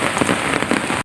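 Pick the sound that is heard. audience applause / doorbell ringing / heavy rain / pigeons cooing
heavy rain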